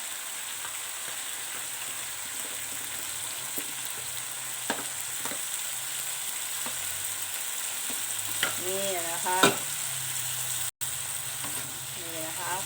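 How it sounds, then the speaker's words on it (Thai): Chicken being stir-fried with sliced cucumber, red chili and onion in a hot pan, a steady sizzle under occasional spatula scrapes and clinks, fairly close with no talking. "ผัดให้เข้ากันนะคะ"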